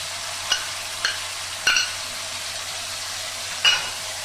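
Fried spice masala sizzling in a pan as sour yogurt is added, a steady hiss with four sharp spatters and stirring clinks spaced through it.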